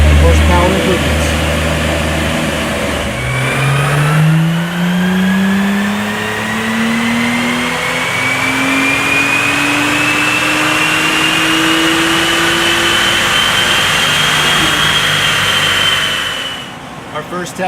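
A tuned twin-turbo Acura NSX with an ARMYTRIX exhaust revs loud and steady on a dyno, its pitch sweeping smoothly upward through a long pull over roughly thirteen seconds before cutting off near the end.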